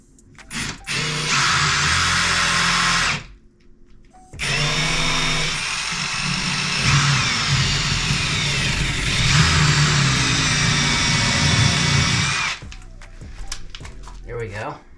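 A power drill countersinks a screw hole during an old-house repair, running in a short burst, pausing briefly, then whirring in one long, close, steady run before stopping.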